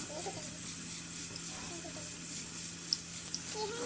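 Dahi phulki fry in moderately hot oil, giving a steady, even sizzling hiss that runs for the whole stretch, with faint voices talking now and then underneath.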